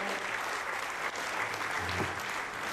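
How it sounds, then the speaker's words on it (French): Hall audience at a French song and comedy show applauds Patrick, a steady, dense wash of clapping that holds evenly throughout, with a faint voice briefly underneath. "Applaudissez-le Patrick"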